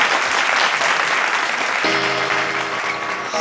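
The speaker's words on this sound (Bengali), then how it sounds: "জোরে একটা হাততালি" Loud applause fills a studio set during a Bengali family game show episode, a dense wash of clapping from a crowd that runs steadily throughout, with a faint tonal music sting entering toward the end.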